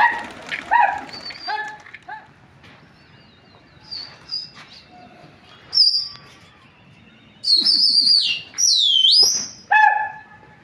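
Larayo pigeons being flown from a loft, with a scatter of bird calls and sharp, bright chirping bursts coming in uneven clusters, loudest toward the end and separated by quieter gaps.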